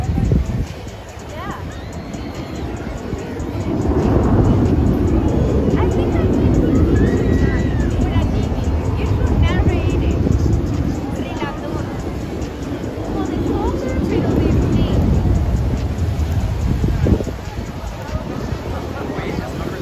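An aircraft hovers at an air show, its engines giving a loud, sustained roar that swells and holds for many seconds amid crowd noise and talk.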